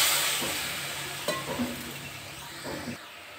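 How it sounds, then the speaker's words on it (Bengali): Fried masala sizzles in a pan with a bright, fading hiss as water is poured in. A few soft stirring clinks follow at a moderate, close distance, without speech. "মশলাটা কষা হয়ে গেছে, জল ধরে দিচ্ছি।"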